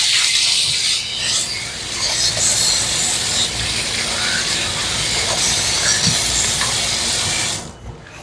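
Spring onion and celery being washed under running tap water in a home kitchen, a steady close hiss of flowing water lasting several seconds before it cuts off abruptly.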